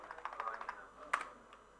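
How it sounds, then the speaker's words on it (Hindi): Keystrokes on a computer keyboard during web coding, a quick burst of light taps followed by one louder press, close and fairly quiet. "टैब का बटन कीबोर्ड से प्रेस करेंगे।"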